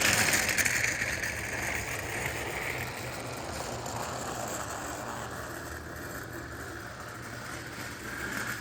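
A small motorized Thomas push-along toy train engine runs steadily with a close, even mechanical whir and a faint ratcheting rattle, louder at the start and then holding level, with no voices.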